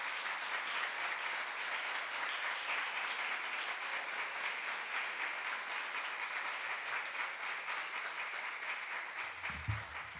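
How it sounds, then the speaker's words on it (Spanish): Steady audience applause at a literary talk with author Lorenzo Silva, dense clapping sustained evenly for about ten seconds with no voices over it. "Así que un aplauso, bienvenido Ramón y muchísimas gracias."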